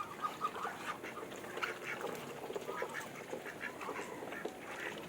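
Geese honk and quack in a loose flock at feeding time, overlapping calls at a moderate distance over a soft outdoor background.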